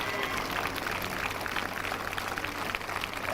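A church congregation at an evening prayer meeting claps together in a steady, dense, somewhat distant patter, with a voice audible over the clapping.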